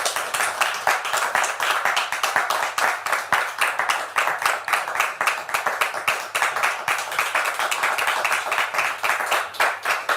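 A studio audience claps for an arriving guest, a steady, even stream of applause that carries on at the same level throughout, with no voices over it.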